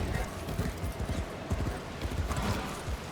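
Galloping mount hooves in the Warframe video game's Duviri setting, a steady rapid clip-clop rhythm that carries throughout over a busy, dense game soundscape.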